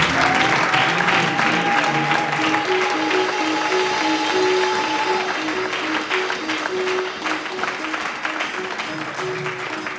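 A church congregation applauds and cheers steadily over sustained music, the clapping dense and continuous throughout, fading slightly toward the end.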